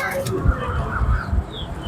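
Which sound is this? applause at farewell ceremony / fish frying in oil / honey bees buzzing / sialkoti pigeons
sialkoti pigeons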